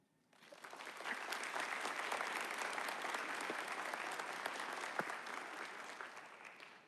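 Applause at a high school graduation ceremony: a crowd claps steadily and evenly for several seconds, heard from some distance, starting quickly and holding a broad, continuous patter.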